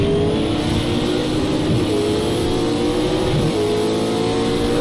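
A Pagani supercar accelerating hard in a racing video game with DRS in use, a loud continuous engine roar climbing through the revs with brief dips at gear changes, alone and close.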